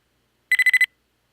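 A quick series of five electronic beeps, a video game's spider enemy alert, bright and evenly spaced, sounding alone in a brief burst before silence.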